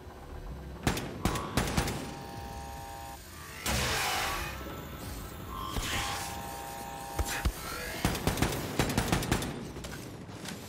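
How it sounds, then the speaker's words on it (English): Enemy gunfire in Wolfenstein II: The New Colossus, sharp scattered shots and short automatic bursts cracking loudly over a rumbling background, with a couple of heavier blasts. "Where are they shooting from?"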